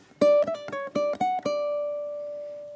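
A ukulele plucks the opening phrase of a gypsy jazz waltz, six or seven bright, evenly spaced notes close up, the last one left ringing and slowly fading.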